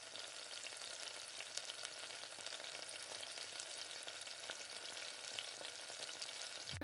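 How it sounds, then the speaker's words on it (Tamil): Chopped tomatoes with rock salt sauté in a hot pan, a dense, even sizzle with small crackles, close and continuous, with no talking. "தக்காளியும் சேர்த்து கொஞ்சமாக கல் உப்பு சேர்த்து நல்லா வதக்கி விடுங்க"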